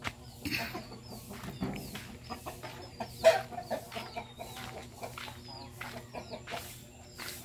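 Several chickens cluck in short, scattered bursts, fairly close, over a low background hum, with faint farmyard noise.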